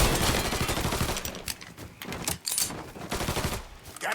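Gunfire in the video game Mafia III, loud rapid bursts of shots with brief gaps between volleys, close and dense.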